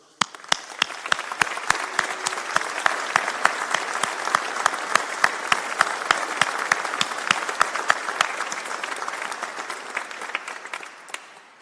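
Sustained applause from a large crowd at a college graduation ceremony, dense clapping building steadily for about ten seconds before tapering off at the end.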